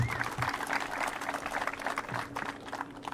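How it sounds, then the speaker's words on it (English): An audience at an outdoor economic development announcement applauds with a soft, scattered patter of clapping that holds steady, fairly faint and moderately distant. "Let's give her a round of applause."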